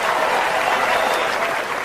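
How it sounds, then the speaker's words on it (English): Audience applause at a stand-up comedy show, a dense steady wash of clapping filling the room. "Some of you are clapping"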